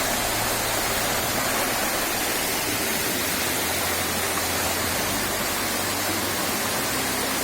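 Water rushes continuously with a dense, even hiss, like a lively stream flowing close by with no pauses; the Pylypets stream near Shypit waterfall.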